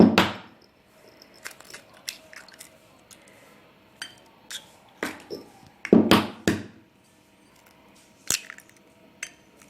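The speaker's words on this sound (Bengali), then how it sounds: "ডিম ভেঙে নিচ্ছি" Eggs cracked into a bowl while making potato pancakes: a handful of sharp, close taps and clinks, each followed by a soft wet squish, spaced apart in a quiet kitchen with no talking.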